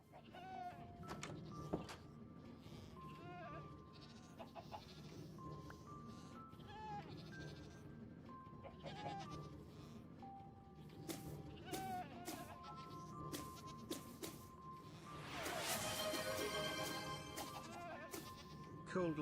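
Horned goats in a Minecraft survival game let out repeated short bleats over quiet game ambience, with a louder burst of activity near the end.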